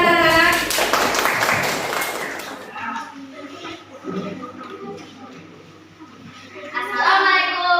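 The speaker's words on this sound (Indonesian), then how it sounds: "Tepuk tangan anak." Children in a classroom burst into a dense round of applause for a couple of seconds, which then fades out. A teacher and pupils talk afterwards.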